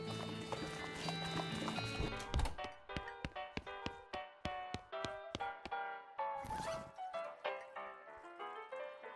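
Horse hooves clip-clop in the video game West of Loathing as a quick regular run of sharp hoof taps with musical tones underneath, fairly faint and with no talking.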